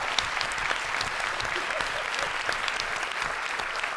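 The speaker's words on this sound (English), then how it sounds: "let's give a big round of applause for all the queer representation in Carmilla" A fan convention crowd at a Carmilla panel at Fan Expo Canada claps loudly in dense, continuous applause, filling the whole stretch.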